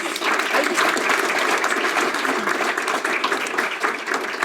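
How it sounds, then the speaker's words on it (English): A lecture audience gives Becky one more round of applause after a talk on the sacred landscape of Áísínai’pi (Writing-on-Stone), a thick, continuous wash of many hands clapping fairly close and steady throughout. "Let's give Becky one more round of applause."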